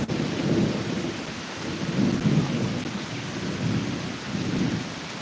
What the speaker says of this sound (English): It's really lightning in the front.